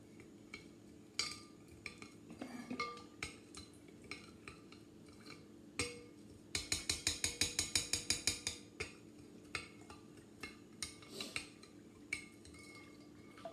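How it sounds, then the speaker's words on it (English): Salt being stirred into cold water in a container until dissolved, with soft irregular clinks and scrapes and a quick burst of rapid rhythmic tapping midway, close and fairly quiet. "you're going to continue to stir this until all your salt's been dissolved"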